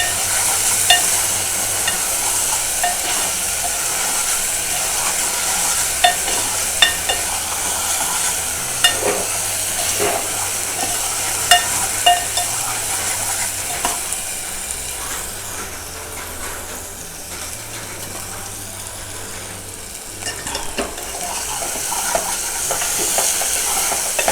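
Onion frying in a pan with chili and ginger-garlic paste for a Konkan-style wild taro leaf curry, with a steady sizzle and repeated scraping stir strokes throughout.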